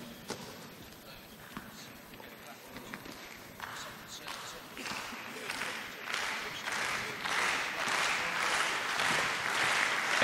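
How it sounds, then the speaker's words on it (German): Applause for Edberg at a 1996 Stuttgart indoor tennis match swells steadily from scattered clapping into a loud, dense ovation, with a commentator's voice speaking over it. "Edberg hier natürlich mit einem donnernden Applaus empfangen"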